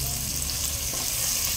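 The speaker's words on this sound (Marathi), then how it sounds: "ती फोडणीमध्ये पण लाल मसाला टाकत आहे" Turmeric and red masala frying in hot tempering oil, a loud, continuous crackling sizzle close by that holds steady with no voices.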